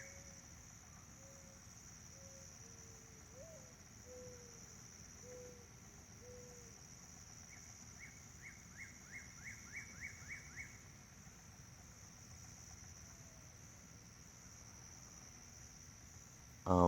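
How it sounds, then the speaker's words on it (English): Outdoors at night, a bird gives a short series of soft, low hoots early on, later a quick run of higher chirping notes, all faint over a constant insect and cricket drone. "What kind of bird are we hearing?"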